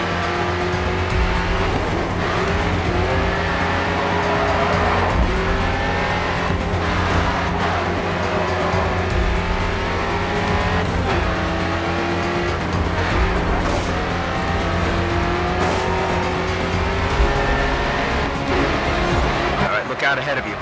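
Race cars in the GRID 2 racing video game roar steadily throughout, engine drone with occasional tire squeal and skids, loud and continuous while a voice speaks over the racing.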